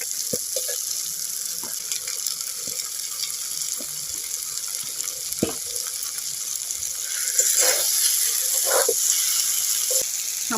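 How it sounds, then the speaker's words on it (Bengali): A little water goes into a pan of potatoes and cauliflower cooking in fried spice paste, making a steady hissing pour with soft sizzling that swells louder toward the end; nobody speaks. "সামান্য জল দিয়ে দেব।"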